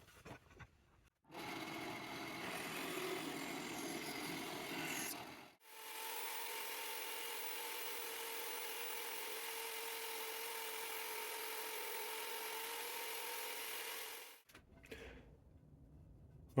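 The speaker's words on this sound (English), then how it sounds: "Sanded it to just a rough idea." Power sander working maple wood for guitar wings: a steady whining drone runs nearly ten seconds after a shorter burst of rougher grinding, with brief pauses between, close and loud, no talking.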